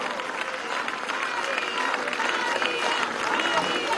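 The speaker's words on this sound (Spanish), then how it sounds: "Vamos a darle un aplauso, ¿vale?" A crowd applauds María León at a march against violence toward women, a continuous spatter of clapping at moderate level with voices and cheering mixed in.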